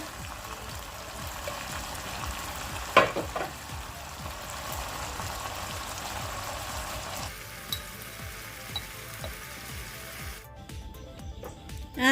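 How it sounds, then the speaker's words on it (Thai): Canned fish stir-fry with fiddlehead fern is stirred gently in a pan, a soft sizzle under light intermittent scrapes and a couple of sharper knocks, fading quieter toward the end. "เราจะคนเลี่ยงๆไม่ให้ปลาเขาแหลกนะ"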